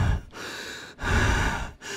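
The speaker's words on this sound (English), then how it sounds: "I can just hear you breathe into the mic" Close, heavy breathing straight into a microphone: three long, airy breaths in a row with brief pauses between them, loud and alone.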